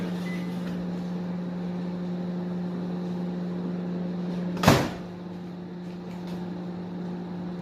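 A microwave oven running while cooking upma, a steady low electrical hum throughout, broken by one sharp thud of the door or a latch midway.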